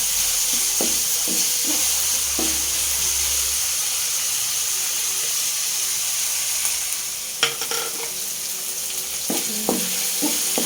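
Browned garlic and tomatoes fry in a pan for ginisang sayote, a steady loud sizzle and hiss with occasional stirring clinks and scrapes of a utensil, close up.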